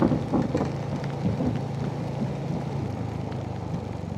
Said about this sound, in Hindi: पूरा बिजली गड़क जा रहा है बहुत तेज़,